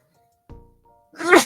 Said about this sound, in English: Got your little sneeze there at the end